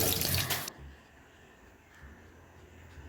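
Tap water splashes loudly as carrots, apples and beetroot are washed under a running faucet, then cuts off abruptly after a brief burst, leaving a faint, quiet room.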